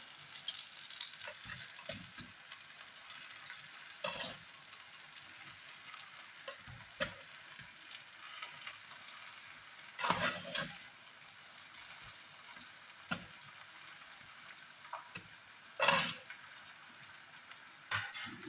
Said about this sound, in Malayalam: ബാക്കി ഇട്ടിട്ടൊന്ന് ഇളക്കി കൊടുക്കാം